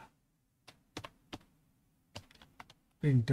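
Typing on a computer keyboard while entering words into an MS Word document, a few separate clicks and short bursts of keystrokes with pauses between, ending in a louder cluster of taps, close and alone with no talk.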